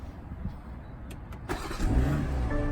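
A BMW car engine starts after a digital key card is placed in the NFC reader, with faint clicks followed by the engine cranking and settling into a steady close idle hum.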